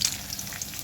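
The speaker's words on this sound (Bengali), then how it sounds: "রসুনটা একটু ভালো করে ভাজতে হবে।" Garlic and chili fry in oil with a brief, dense, close sizzle that holds steady throughout, with no speech.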